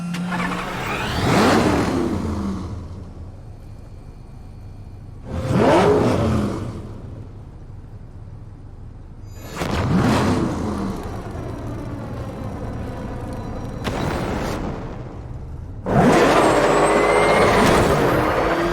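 Police squad cars in a high-speed pursuit in Batman: Arkham Knight rev and roar past in repeated loud bursts, about five engine surges spaced a few seconds apart over a lower rumbling background.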